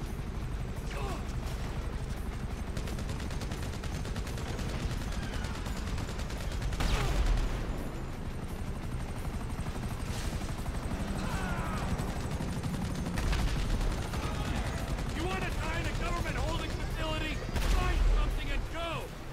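Rifle fire crackles through a GTA 5 firefight, dense rapid shots layered with game effects and voices talking over the action throughout.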